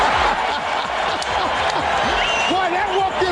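A basketball arena crowd roars and cheers continuously during a vintage NBA Rockets game, a dense, loud wash of noise with a commentator talking over it.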